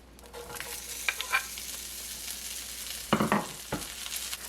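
Sliced vegetables fry in a pan for an omelet, giving a soft, steady sizzle broken by a few sharp clatters and scrapes of stirring.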